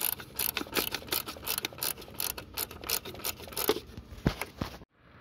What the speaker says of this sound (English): you just hold up the whole module a little bit while you ratchet.